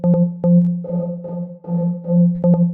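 A repeating synth tone pulses in short bursts with a brief, small-room reverb tail, steady and clean with no other sounds.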